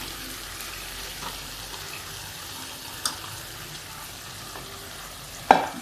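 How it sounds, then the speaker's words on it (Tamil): Beaten egg poured into a pan for a Tamil egg poriyal, frying with a low, steady sizzle and light stirring, with two brief sharper clinks toward the end. "முட்டையை நான் ஒரு கிண்ணத்தில் உடச்சி ஊற்றிருக்கேன் உடச்சி ஊற்றி இது மாதிரி கலக்கிட்டு அப்படியே அதில் சேர்த்துக்க வேண்டியதுதான்"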